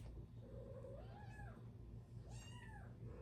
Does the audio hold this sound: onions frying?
no